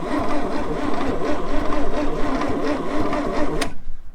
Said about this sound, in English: She cranks and she cranks real nice.